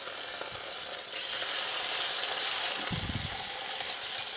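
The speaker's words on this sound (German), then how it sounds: "Und den braten wir jetzt für 2 Minuten von jeder Seite an." An herb-crusted pork roast searing in a pan gives a dense, continuous hissing sizzle at close range, with a soft thump or shift of the meat partway through.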